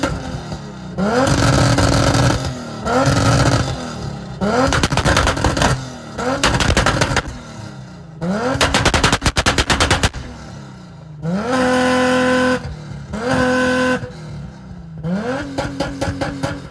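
A heavily tuned turbocharged engine built to exceed 1000 horsepower revs hard again and again. Loud, close bursts rise and fall with crackling, gunfire-like pops between the pulls, and no one speaks over it.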